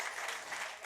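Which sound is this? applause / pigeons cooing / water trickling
applause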